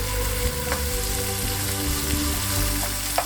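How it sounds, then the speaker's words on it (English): Vegetables frying in a deep frying pan for a one-pot beef penne bolognese, a steady close sizzle and crackle with a few louder pops, and no talking. "And start the vegetables frying."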